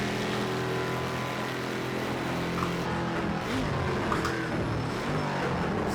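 Mercedes-Benz 300 SEL engine in Project Cars 2 during a one-make race at Silverstone, a deep, harsh V8-like drone held at steady high revs, loud and continuous with no talk.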